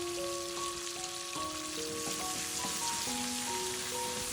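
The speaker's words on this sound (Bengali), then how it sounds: "তেলটা এত এত গরম হয়েছিল, মাছটা আমি আস্তে আস্তে দিয়েছি, তেলটা উঠে তো পড়ছে আমার হাতের মধ্যে।" Bata fish fries in very hot oil for a restaurant-style spicy fish curry, giving a steady, dense sizzle throughout, overlaid by a melodic music track.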